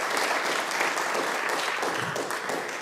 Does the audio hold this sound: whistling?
no